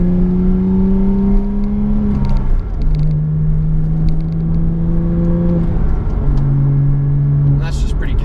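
Engine of a 2006 Porsche Cayman S during casual driving, a steady droning hum that steps between gear shifts with rising then settling pitch, loud and close inside the cabin.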